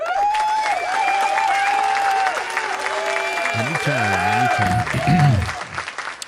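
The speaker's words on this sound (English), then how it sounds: "So a big round of applause for you guys." An audience applauds at a guitar gathering, with steady clapping running under loud voices and tonal sounds that rise and swell before the applause trails off.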